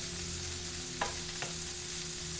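Frozen vegetables pushed around a hot pan over a steady, loud sizzle, with two brief scraping pushes cutting through the hiss, and no talk.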